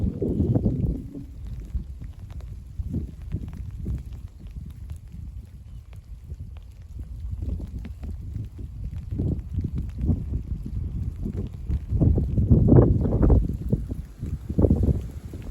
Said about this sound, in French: Il y a un petit peu de vent.